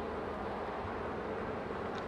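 Honeybees buzz in a steady, dense drone, close and fairly soft, from an open hive during a spring inspection.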